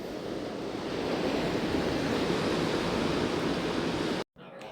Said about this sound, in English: And we got the ocean.